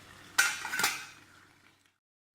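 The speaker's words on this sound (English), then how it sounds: "I'm frying plantain." Plantain frying in a pan: a sudden close clatter and hiss that fades away over about a second and a half, then a short knock at the end.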